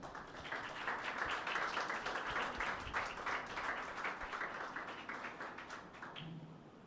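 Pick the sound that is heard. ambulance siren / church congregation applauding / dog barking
church congregation applauding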